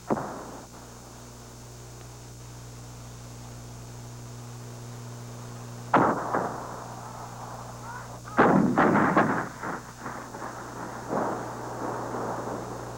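Artillery shells explode on a military bombing range: one sharp boom, then a rapid cluster of rumbling blasts and fading reverberation over a quiet, steady background hum.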